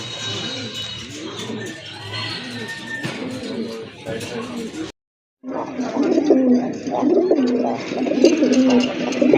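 Raj Golla pigeons coo in low, rolling repeated calls, several birds close by, with a brief gap of silence midway and someone talking over them.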